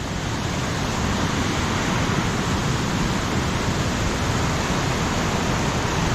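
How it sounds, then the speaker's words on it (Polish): Steady, broad rushing water from a waterfall in Norway fills the scene, constant and fairly loud, with no voices or other sounds. "A już słychać wodospad."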